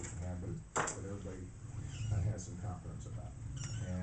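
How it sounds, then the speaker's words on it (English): Young Christmas kittens meow in a series of short, high cries close by, mixed with a person talking softly to them. "Okay, kitties."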